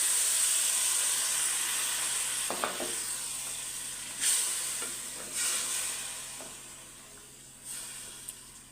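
A loud sizzle and hiss rises as water hits a hot spice paste, then fades, with a few sharper sputtering bursts as the pan settles.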